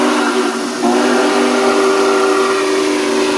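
A steam whistle modeled on the Santa Fe ATSF 3751 steam locomotive blows loud and close, one sustained chime chord with hiss that holds for the whole clip with a slight shift partway through.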